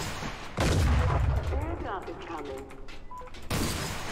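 Rockets fire in the video game Creative Destruction, a loud burst of blasts and booming impacts mixed with game effects, as a voice talks over part of it.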